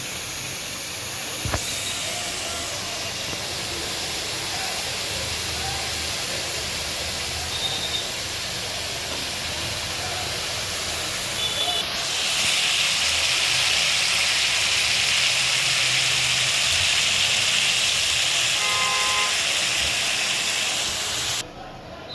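Curry broth with turmeric, salt, coriander and cumin paste simmers in a pot after water is added, making a continuous loud hiss that grows stronger midway and holds steady until it cuts off near the end.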